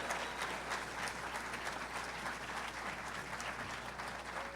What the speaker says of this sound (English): Big round of applause for Senator Lindsey Graham as you come over